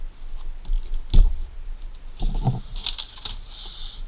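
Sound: unpacking a Petzl Tactikka Plus headlamp

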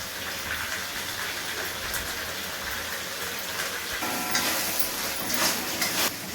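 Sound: spices being sautéed in a pan

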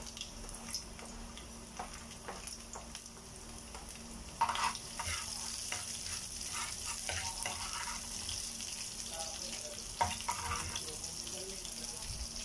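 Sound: garlic sizzling in hot cooking oil

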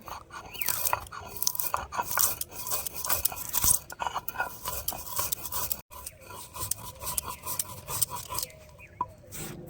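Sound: grinding roasted whole spices

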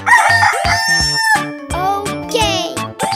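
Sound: chicken rooster crowing

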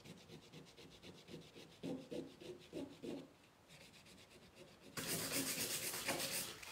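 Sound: sanding a chalk-painted honey jar

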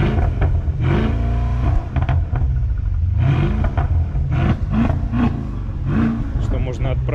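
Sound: Mercedes-Benz S 560 coupe AMG engine starting and revving

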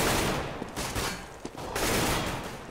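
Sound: gunfire firefight in video game Counter-Strike on Dust2

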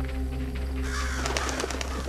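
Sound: crows in Hello Neighbor 2 video game

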